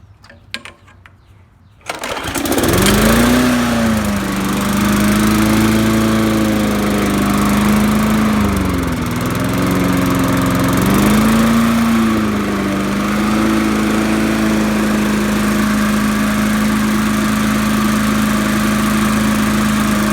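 A curbside-found Murray lawnmower with a classic Briggs engine fires up after a short quiet moment, then runs loud and close with a few dips in speed before settling into a steady drone.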